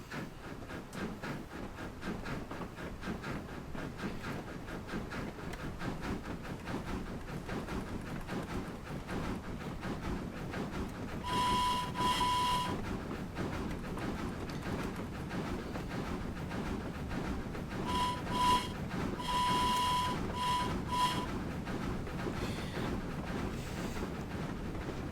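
Steady rumbling running noise of an LSWR M7 steam locomotive in a train simulator carries throughout, with a couple of brief whistle-like tonal calls cutting in partway through, moderately quiet and without talk.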